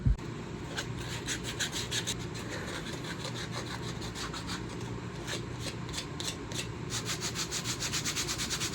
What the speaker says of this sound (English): let's smooth some stuff out with some sanding and then we'll stain